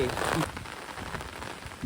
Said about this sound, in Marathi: एवढा जबरदस्त पाऊस लागलाय